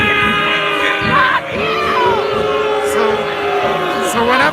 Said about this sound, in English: the crowd boos and makes noise, and it drowns out the loudspeaker